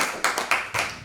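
Audience applause welcoming a musician onto a stage, a short burst of clapping in a few swelling waves, moderately loud and close, with no talk over it.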